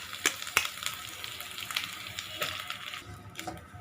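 A spice mixture frying in a pan gives a steady close sizzle, broken by sharp crackles and the scrape of stirring. No one talks.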